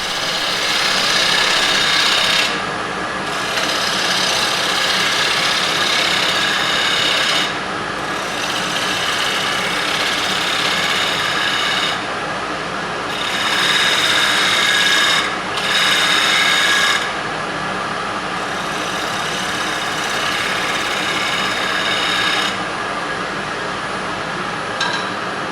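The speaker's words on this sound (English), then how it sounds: "Now I'm going to go with a round nose scraper for a little while." A round nose scraper cuts wood on a lathe with a steady, loud rasping scrape. The cutting drops away briefly several times, leaving only the motor's drone.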